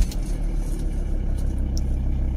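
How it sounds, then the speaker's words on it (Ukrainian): A Volkswagen T4 van engine runs at a steady idle, a low continuous rumble close by with no talk. "Заводимо двигун."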